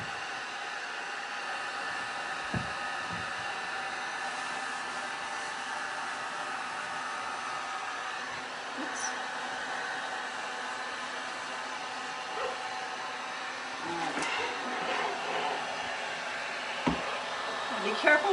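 A heat gun blows hot air onto a silk screen being burned, a steady, fairly loud broadband whoosh that runs the whole time, with faint knocks and handling sounds near the end.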